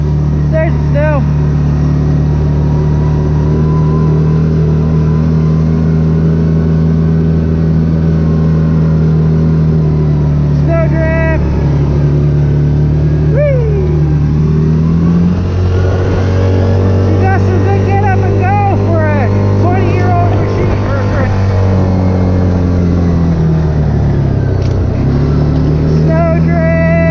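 Loud engine of a 2009 Yamaha Rhino 700 UTV on a ride through snow, droning steadily, then revving up and down in several swells with shifting pitch, with occasional voices underneath.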